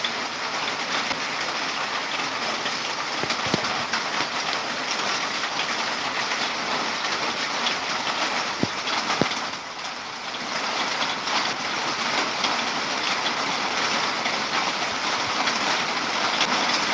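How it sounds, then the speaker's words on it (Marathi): Steady rain pours down without pause at close range, a dense even hiss with a couple of faint knocks and no voices. "इकडे आता आमच्याकडे पाऊस पडतो हा"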